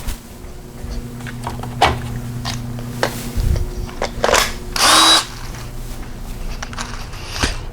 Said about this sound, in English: I got a little portable drill